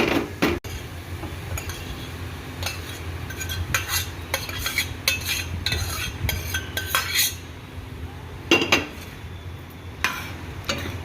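Cooked rice being stirred into amla (gooseberry) pulihora tempering in a pot, with steady scraping and clinking of a metal spoon against the pot sides and occasional sharper knocks, close and fairly continuous.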